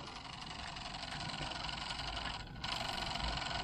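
A single motor on an RG100 Pro toy-grade drone spins with a steady, buzzing whir that briefly dips, then returns slightly louder, close and alone after a crash.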